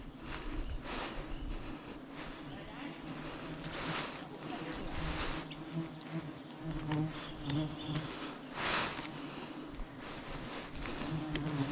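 Wild honey bees swarm around a tree, giving a steady, dense insect buzz with constant hum throughout and no speech.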